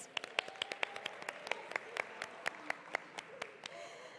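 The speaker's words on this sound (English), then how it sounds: "Please give yourselves another round of applause." Sparse clapping from a gala dinner audience, individual claps ringing out in an uneven rhythm, fairly quiet and a little distant, with faint murmuring underneath.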